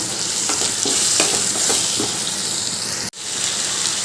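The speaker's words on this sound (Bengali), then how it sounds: "এরপর আমি ম্যারিনেট করা মাটনটা দিয়ে দিলাম দিয়ে ভালো করে কষিয়ে নেব" Yogurt-marinated mutton sautés in a hot pan with a dense, close sizzle and scattered stirring scrapes. The sound cuts out briefly near the end, and there is no talk.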